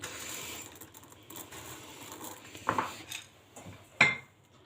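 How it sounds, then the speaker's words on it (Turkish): Quiet kitchen handling of a metal cooking pot, with a couple of sharp clanks and a rattling scrape over faint background noise. "Şimdi hemen tenceremi alıyorum."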